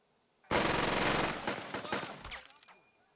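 Gunfire from the WWII tactics game Burden of Command: a sudden loud burst of rapid machine-gun fire that starts abruptly and rattles on, then decays into scattered trailing shots and fades out within about two seconds.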